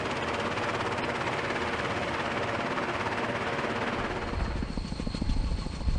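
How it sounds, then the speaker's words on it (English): A Chinook helicopter making a brief pinnacle landing during special forces training, its twin rotors roaring loud and steady and close by, shifting to a heavier low thumping rhythm as it settles. "With the Chinook pilot even practicing a brief pinnacle landing."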